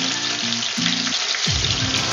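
Onion dropped into hot oil with golden-brown garlic in a pan, a loud, close, continuous sizzle with bursts of frying hiss and a few faint thuds, no talking.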